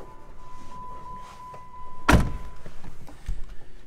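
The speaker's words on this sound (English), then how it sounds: "on the inside of your driver's side door, you have your power locks." Power door locks on a 2012 Jeep Wrangler Unlimited, switched from the driver's side door: one sharp, loud thunk stands out midway through, with a faint electrical hum and soft cabin noise around it.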